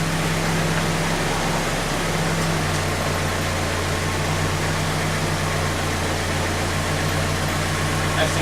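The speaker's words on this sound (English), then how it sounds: "Now that the idle is a little high, I'm gonna set it back to where it was." A 1990 Mazda Miata engine idles steadily after an idle adjustment during a tune-up, a constant low hum with a faint droning tone, close and even throughout.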